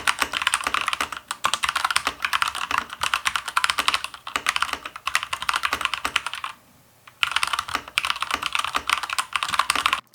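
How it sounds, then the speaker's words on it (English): Fast clacky typing on a Keychron K2 mechanical keyboard fitted with red switches, a dense stream of close, crisp keystrokes that breaks for a brief pause midway before resuming. "looking at the K2 now, this has the red switches and a much deeper press to actuate the keys"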